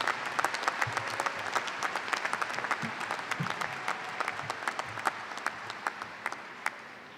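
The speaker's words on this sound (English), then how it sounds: "Let's hear it for the parents." A large crowd at a university commencement ceremony applauds. The sound is a sustained, faint, distant wash of clapping with sharper individual claps standing out.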